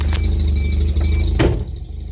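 A single solid thud of a 1989 Isuzu Trooper door shutting cuts through the steady rumble of an idling engine, which then quiets.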